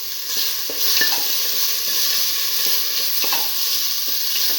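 Tomato pieces fry in a hot pan with salt, giving a steady sizzle while a utensil stirs and scrapes in repeated soft clicks, close up and with no talking.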